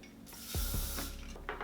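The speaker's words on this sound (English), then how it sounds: "I'm just gonna be spraying a kabuki brush with some hairspray" A short burst of hairspray hisses close by as it is sprayed onto a kabuki brush, with a couple of soft knocks and rubbing sounds around it.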